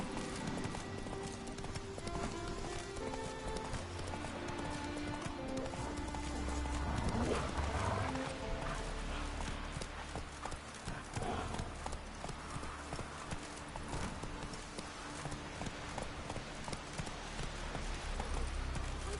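Horse galloping in the video game The Witcher 3, a continuous rhythmic clip-clop of hooves with an occasional whinny, set against a dense, steady game soundscape of music and ambience.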